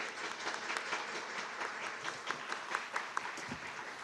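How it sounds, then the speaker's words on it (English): Audience applause at the closing ceremony of the Global Korea Convention 2021, a steady, dense patter of many hands clapping at moderate volume, with a few sharper individual claps standing out near the end. "Let us express our appreciation with a big applause."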